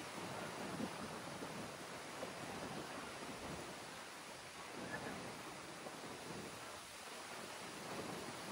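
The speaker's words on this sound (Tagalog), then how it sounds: "Parating yung ulan, malakas yung ulan." Heavy rain approaching on Boracay beach on a wavy day, a dense, steady roar of rainfall mixed with surf and gusty low rumble, loud and enveloping throughout.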